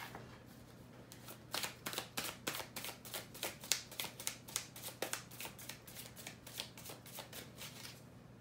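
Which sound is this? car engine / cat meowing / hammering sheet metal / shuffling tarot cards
shuffling tarot cards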